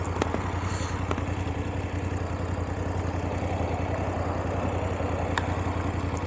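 Steady low drone of a BMW 2023 GS 850 Trophy motorcycle engine while riding in dynamic mode, an even unbroken hum with faint wind noise and a few light ticks over it.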